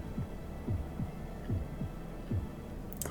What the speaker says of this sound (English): Just listen to that heartbeat.